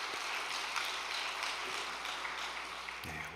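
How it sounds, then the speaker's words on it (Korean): Congratulatory applause from a church gathering's audience after fishing-contest awards, a steady dense patter of many hands sustained throughout, ending as a voice begins. "축하의 박수 부탁드리겠습니다."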